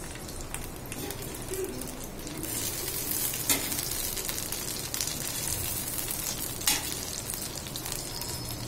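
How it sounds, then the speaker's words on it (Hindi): A cheese omelette cooks on a very low flame with a gentle, steady sizzle. Two brief sharp clatters break in, and a pigeon coos faintly in the background. "बिल्कुल स्लो फ्लेम पे पक रहा है ऑमलेट"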